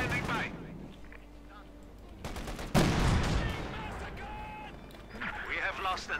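Machine-gun and rifle fire from the strategy game Company of Heroes 2 rattles in scattered bursts, with a heavy blast near the middle, over busy battle ambience.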